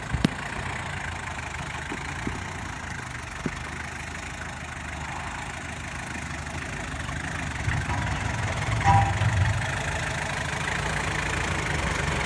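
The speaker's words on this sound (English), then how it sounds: "I really just recommend just crawling up these first gear low range" A 4WD vehicle in first gear low range crawls up a homemade dirt track with a steady, low engine drone. A few faint knocks and thumps rise toward the end. No talking.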